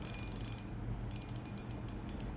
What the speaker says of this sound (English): It's got a good drag clicker, pretty loud.